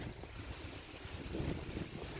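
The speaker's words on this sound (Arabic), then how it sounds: "هذا الهواء مبين بالاشجار، هواء بارد كلش." Cool wind blows hard through the trees of a park in Ankara, a constant broadband rush with heavy low buffeting against the microphone, close and unbroken, with no voices.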